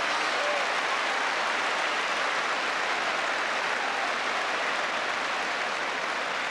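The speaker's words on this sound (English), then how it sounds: "Great applause from the crowd." Sustained applause from a football crowd at a 1989–90 Stoke City versus Arsenal match, a dense, steady wash of clapping that stays loud throughout with no talk over it.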